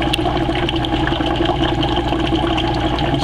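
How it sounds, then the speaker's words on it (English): Air bubbles churn steadily in a hydroponic bubble bucket, a loud, continuous fizzing and gurgling of water with a low pump-like hum beneath it and no talking. "You get plenty of air bubbles to accomplish the job of providing oxygen"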